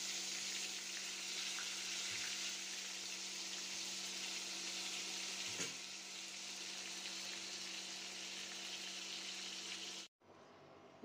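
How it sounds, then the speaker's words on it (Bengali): Eggplant slices fry in hot oil that was just used for eggs, making a steady close sizzle that carries evenly throughout and then cuts off abruptly near the end. "এখন বেগুনগুলো ভেজে নিব"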